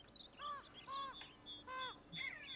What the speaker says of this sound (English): where are these crows?